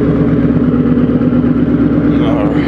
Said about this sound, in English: if you're in the market for a deep tone exhaust